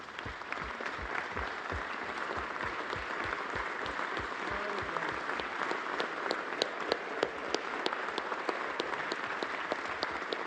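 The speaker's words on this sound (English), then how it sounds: "giving the Fiscal Bureau a round of applause for all their work" A chamber audience applauds the Fiscal Bureau during a budget speech, with sustained, even clapping from many hands in a large room, moderately loud and continuing without talk.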